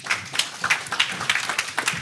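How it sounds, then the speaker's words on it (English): An audience at a token sale panel claps for a speaker, producing a short, moderate spatter of overlapping claps that stays fairly even before fading. "Let's give him a round of applause."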